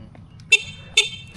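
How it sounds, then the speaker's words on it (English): Two short, bright car horn toots sound outdoors about half a second apart, clear and fairly loud over low background rumble. "Horns are like so fun."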